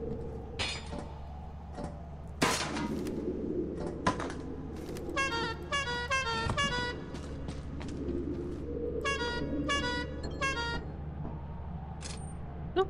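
A vehicle horn in a video game honks in rapid repeated bursts, several quick clusters of short blasts separated by pauses, over a low rumbling engine bed.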